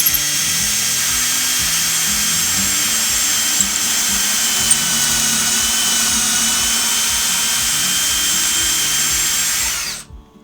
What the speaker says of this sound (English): Let's drill a hole and just see how it turns out.